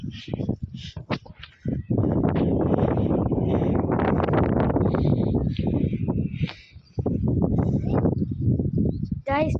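Strong summer wind blowing outdoors, heavy gusts buffeting the microphone in loud rumbling bursts with brief lulls between them.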